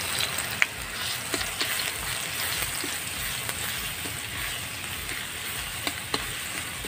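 Garlic and dried red chillies fry in a pan for village-style jute leaf greens, giving a steady close sizzle with a few sharp taps from stirring.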